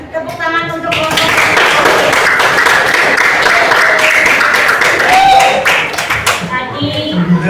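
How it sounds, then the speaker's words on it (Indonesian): Students in a classroom clap for a group, a loud burst of hand claps that starts abruptly, holds for several seconds and fades, with children's voices around it. "Tepuk tangan untuk kelompok."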